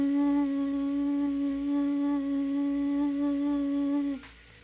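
A voice imitates a swarm of mosquitoes rising from the ground in vegetation, holding a steady, loud, buzzing hum for about four seconds before it stops abruptly.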